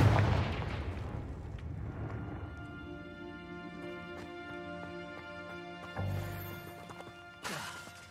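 A Confringo explosion spell cast in Hogwarts Legacy: a loud blast at the start that decays into a long ringing, resonant tail, followed by further heavy impacts near the end.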